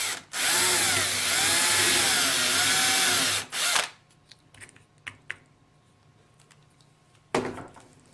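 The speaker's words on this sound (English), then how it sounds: "13/64 drill bit, we're going to drill a hole right here" Power drill boring a hole with a 13/64 bit for a homemade gimbal steadicam: a loud sustained whine lasting about three seconds, then clicks and handling taps, and a brief final burst of drilling.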